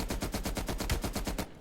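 Rapid automatic gunfire rattles in an even burst of about fifteen shots from a light machine gun in a video game, loud and close, stopping abruptly.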